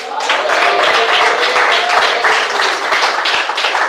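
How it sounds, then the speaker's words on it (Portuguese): A church congregation claps steadily and briskly, dense applause filling the whole stretch, with a faint voice or tone underneath. "Bate palmas."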